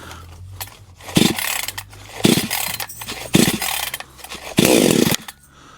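A cheap $38 gasoline chainsaw being pulled over several times, each tug giving a short rough burst of engine sputter that dies away, ending with the saw catching and revving loudly before cutting off.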